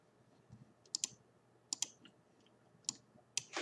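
A few sharp computer mouse clicks, quiet and close, come in pairs and singles to open a campus map model, with faint keyboard-like ticks between them.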